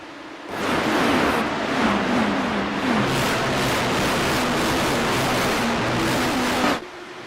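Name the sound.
IndyCar race cars rumbling at race start, Mid-Ohio, racing video game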